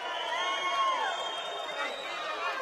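A darts crowd in Gibraltar roars and cheers loudly and continuously, a dense wall of voices with whistles rising over it, all of it close and sustained.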